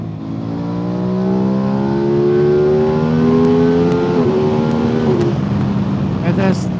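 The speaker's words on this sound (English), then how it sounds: "It has just the most amazing induction noise." An Aprilia RS660 Factory motorcycle engine revs up with rising, harmonic-rich induction noise, climbing in pitch, then a few quick-shifter shifts and crackles as it pulls away.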